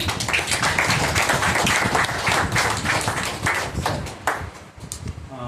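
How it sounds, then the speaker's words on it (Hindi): An audience at an Easter Day gathering in a church in Nagpur claps to welcome a speaker, loud sustained applause with many overlapping hands that thins into scattered claps near the end. "अब जो वो बताते हैं तो उनके ऊपर हम तालियां बजा के उनका स्वागत करेंगे"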